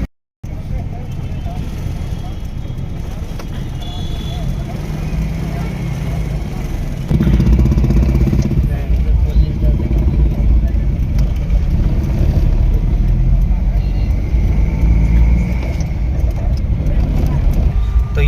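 A car on the road on the way to the Mangla Devi temple near Puri, its engine and road rumble running steadily throughout and growing louder partway through, with low wind noise and voices talking over it.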